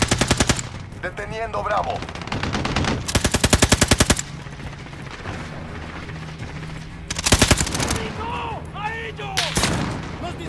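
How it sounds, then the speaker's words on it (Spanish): Machine gun fire in a video game erupts in several loud, rapid-fire bursts separated by pauses, with shouted voices between and over the volleys. "¡Nos disparan!"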